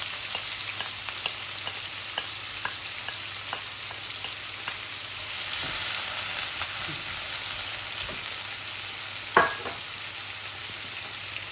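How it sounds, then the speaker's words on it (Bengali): A medium-sized onion frying in hot oil for a Bangladeshi tilapia curry with cabbage and cauliflower: a steady, close sizzle with scattered crackles and pops, and one sharper clatter near the end. No one speaks. "এখন আমি ও পেঁয়াজটা দিলাই, আর এটা মিডিয়াম সাইজের একটা পেঁয়াজ।"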